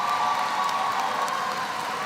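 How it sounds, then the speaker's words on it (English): Distant, steady applause from a commencement audience honoring the faculty, a soft even wash of clapping heard from far off in a large hall. "Please give them a round of applause."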